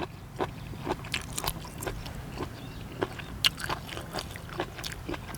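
Pounded sausage mixed with single-clove garlic chewed up close, with faint, irregular crunchy bites and crisp snaps popping every half second or so over a quiet background hum, with no speech.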